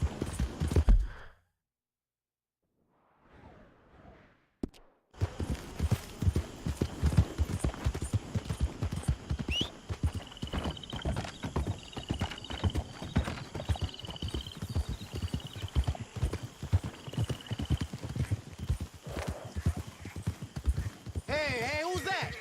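A horse gallops in Red Dead Redemption II, rapid rhythmic hoofbeats pounding close and steady after a short quiet opening, with a brief voice and some rustling before the run starts.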